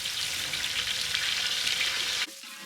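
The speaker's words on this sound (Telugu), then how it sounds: "ముందుగా కోసుకున్న ఆనియన్స్ని వేసుకుందాం. మిర్చి వేసుకున్నాక టమాటా ముక్కలను కూడా వేసుకుందాం." Chopped onions, green chillies and tomato pieces frying for egg biryani masala give a loud, steady hiss of sizzling oil that cuts off abruptly near the end, with no talking.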